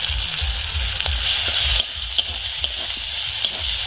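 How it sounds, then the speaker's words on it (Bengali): Green peas tipped into a pan of chopped tomatoes frying until softened, a continuous close sizzle with a brief surge and then quieter crackling and light pops. "টমেটোটা হালকাভাবে গলে গেছে। এই অবস্থায় আমি মটরশুঁটি দিয়ে দিচ্ছি।"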